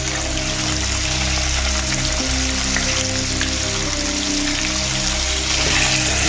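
Chicken searing over high heat in hot oil with ginger and garlic for a black pepper lemon karahi, a steady loud sizzle and crackle that runs without pause, no voices.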